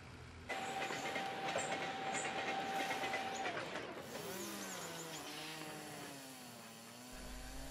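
A freight train in the railway strategy game Mashinky rolls along the rails with a steady mechanical rumble and clatter, and a rising and falling whine in its second half.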